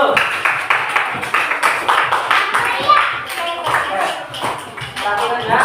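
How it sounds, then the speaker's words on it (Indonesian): A classroom of pupils claps their hands in applause, a lively burst of fairly loud, brisk clapping that carries on throughout with some children's voices mixed in. "Tepuk tangan dulu."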